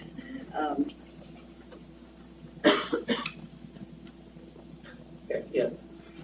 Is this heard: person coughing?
yes